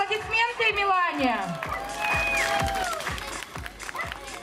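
Audience clapping and cheering at a town-day dog contest, a lively crowd applauding with scattered claps and voices while a host speaks over the noise.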